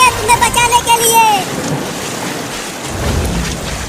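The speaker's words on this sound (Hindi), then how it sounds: "अब जल्दी पानी से बाहर आ जाओ चिंकी, बाढ़ का पानी बढ़ रहा है।" Floodwater rushes in a cartoon scene. A voice speaks briefly at the start, then a steady, loud roar of churning water continues alone.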